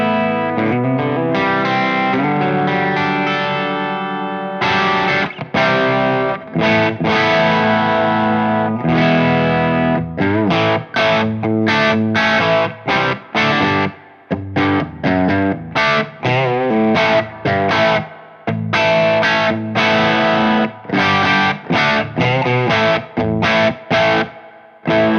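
Distorted electric guitar through humbucker pickups on an Ibanez S320, loud chords and riffs with sharp stops and restarts, heavy driven tone played alone.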